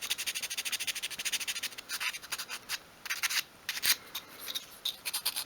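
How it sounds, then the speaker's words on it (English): Folded sandpaper rubs back and forth over a small wooden step for a 1/12 scale miniature garden shed ladder, giving close, steady rhythmic scratchy strokes that break into shorter irregular passes, with no talk. "I'm actually wearing down that part of the step. I folded the sandpaper in half."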